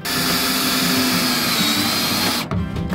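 A power drill boring drainage holes in a tin planter box, a loud sustained whining drone that holds steady for over two seconds before cutting off abruptly, leaving a short tail of faint rattles.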